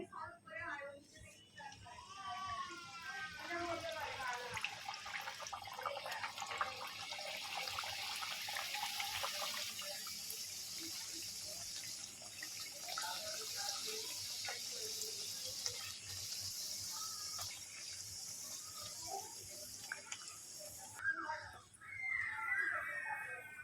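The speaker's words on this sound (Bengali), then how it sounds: "আমি এবারে এখানে তেল বসিয়ে দিয়েছি দেখুন গরম হয়ে গেছে এক এক করে ভেজে নেবো" Pea-stuffed kochuri deep-frying one at a time in hot oil, giving a steady, fairly loud hiss that runs almost unbroken through the whole stretch.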